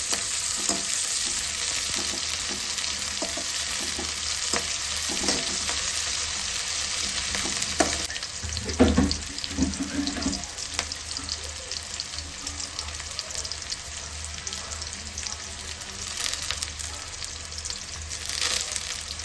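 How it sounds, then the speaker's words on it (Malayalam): Onions, green chili, ginger and garlic sauté in oil for a crab and prawn masala curry, a constant dense sizzle with intermittent stirring clatter and a brief splashy burst midway, no voices. "ഇത് നല്ലപോലെ മൂപ്പിച്ചെടുക്കാം കേട്ടോ"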